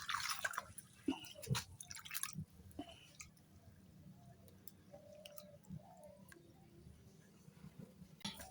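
Sago pearls being rinsed in water by hand in a village kitchen, with soft drips, squishy wet handling and small splashes, fairly quiet and close, with no talking.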